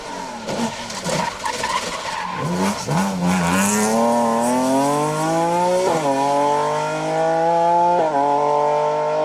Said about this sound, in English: it's the BMW 1M of Marty Toner and Ben Teggart. Really stamping on the brakes there.